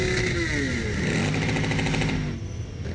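A loud engine revving along Erie Boulevard in Syracuse, where drag racing and loud mufflers are common, a close motorcycle-like roar rising and falling in pitch before easing off toward the end.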